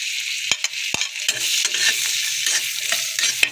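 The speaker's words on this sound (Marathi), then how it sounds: "कांदाही तसंच आपल्याला हलकच लालसर करून घ्यायचं आहे" Chopped onion sizzles in butter on a hot tawa while being stirred, giving a close, steady frying hiss with several sharp scraping clicks from the spatula on the pan.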